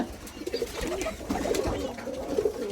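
Native pigeons coo repeatedly in low, throaty murmurs at a pigeon farm, several birds overlapping close by against a steady background hum.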